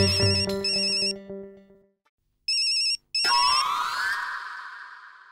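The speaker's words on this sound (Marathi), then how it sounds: "हॅपीलाच फोन करून विचारते." A phone plays a melodic ringtone while a call is placed, with bright repeating tones that cut off, return briefly and then give way to a rising electronic sweep.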